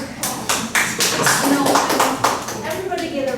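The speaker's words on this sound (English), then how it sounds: "Everybody get a round of applause." An audience gives a round of applause after a presentation on an energy crisis: scattered, uneven claps under ongoing speech.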